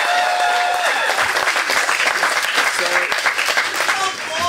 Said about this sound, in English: One more round of applause, please, please, please.